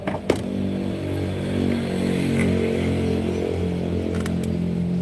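A Honda Grand motorcycle engine fitted with a new CDI fires up after a brief sharp click and settles into a steady, close, continuous idle with no one talking.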